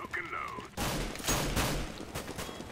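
A Mag-7 shotgun fires in Counter-Strike: Global Offensive, a loud sharp blast that cuts in abruptly after a moment of quieter game sound. A voice is faintly present.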